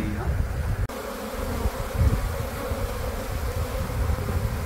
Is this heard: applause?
no